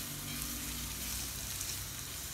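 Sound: mushrooms sizzling in butter and oil

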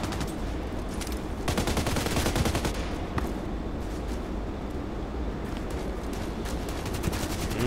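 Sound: gunfire in the video game Contract Wars

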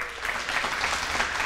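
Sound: audience applause

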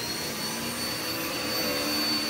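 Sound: vacuum cleaner running on floor

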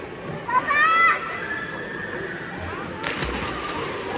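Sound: child jumping into pool water, splash

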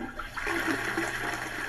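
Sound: toilet flushing sound effect

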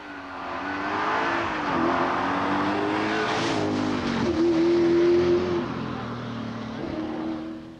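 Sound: V8 Rover Group A rally car engine

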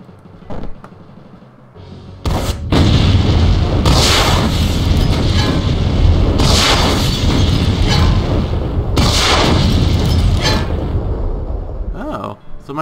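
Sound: rocket launcher explosions in Brutal Wolfenstein video game

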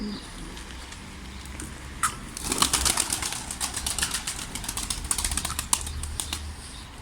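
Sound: birds on a terrace

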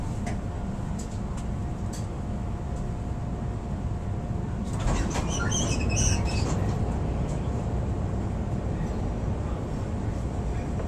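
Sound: Chicago Brown Line elevated train riding on the tracks

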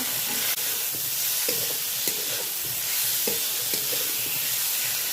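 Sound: frying bele saag greens with salt and turmeric

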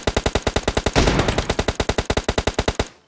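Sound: gunfire in the video game PUBG Mobile

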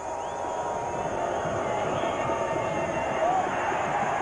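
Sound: football stadium crowd of Botafogo and Palmeiras fans

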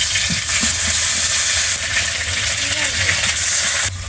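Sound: ginger paste added to hot pan, sizzling

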